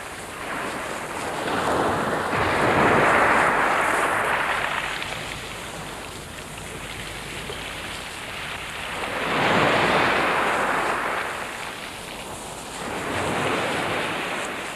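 Ocean surf rolls onto a sandy loggerhead turtle nesting beach, with broad roaring waves that swell and fade every few seconds over a constant wash, heard alone without voices.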